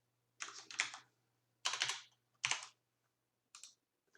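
Keys clatter on a computer keyboard in a Windows command prompt, four short bursts of quick, close keystrokes separated by brief silences.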